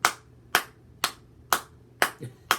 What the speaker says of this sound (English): Find a rhythm to clap your hands.